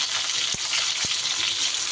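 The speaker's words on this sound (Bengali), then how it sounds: "আমি কিন্তু পটলগুলোকে একটু নাড়িয়ে চাড়িয়ে ভালো করে ভেজে নেব।" Pointed gourd (potol) fries in mustard oil with a bright, continuous close sizzle, broken by two dull knocks as the pieces are stirred in the pan.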